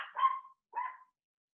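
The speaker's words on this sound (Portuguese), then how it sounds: "Meu cachorro deu uma rebelião de cachorro aqui." A dog gives two short barks, a moment apart, fairly close but not very loud, with silence after.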